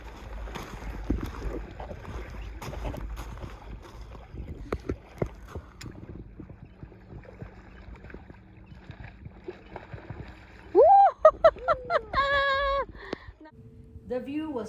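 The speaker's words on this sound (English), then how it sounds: "we hopped on a small aluminum boat with a motor, and the guide took us to a secluded bank to wade fish." Small aluminum motorboat with an outboard motor crossing water on an Alaska fishing trip, a steady low engine drone and wind buffeting the microphone, with brief sharp whistling tones near the end.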